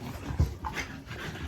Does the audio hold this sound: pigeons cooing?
no